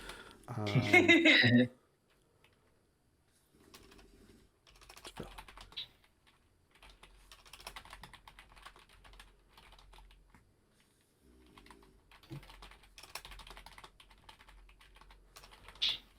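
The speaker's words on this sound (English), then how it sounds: "Just typing really fast" Fast typing on a computer keyboard comes in a few short, quiet bursts of clicks after a brief loud voice at the start, with long near-silent gaps between them.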